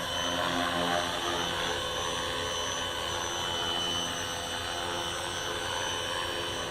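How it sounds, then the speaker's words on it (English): A small collective-pitch RC helicopter's rotor and motor whine steadily, close by and fairly loud, holding a constant buzzing drone with no voices. "See, now that's a collective pitch helicopter."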